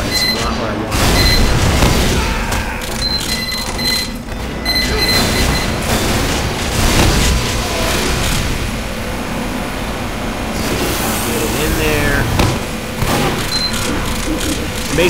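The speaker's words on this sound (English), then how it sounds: "Try and see if I can get lucky with some of these shots" Weapon fire in Team Fortress 2 gameplay, a steady stream of shots and booms running throughout at close range with brief high-pitched beeps, while a person talks over it.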